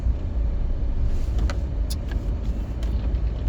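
Cars idle and creep in a traffic jam on a road under construction, a continuous low engine rumble with a few faint clicks and knocks over it.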